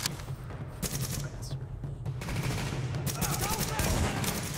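Carbine fire in The Division, played on hard mode, comes as repeated bursts of shots across the clip, steady and fairly loud, with a voice talking briefly among them.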